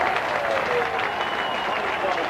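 A large British crowd at the 1991 British Grand Prix applauds and cheers Nigel Mansell, a dense, steady wash of clapping and crowd noise heard alone for a couple of seconds.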